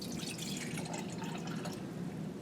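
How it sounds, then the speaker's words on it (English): Water poured into a beaker for a buoyancy demonstration, a steady close trickle and splash running without a break for a couple of seconds with no talk. "I'm going to pour water in this until"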